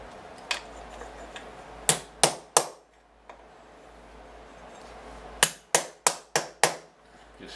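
Hammer striking a metal pin in a sculpture to straighten it, a few scattered taps followed by two bursts of sharp metallic blows, each burst three to five hits in quick succession, close and ringing.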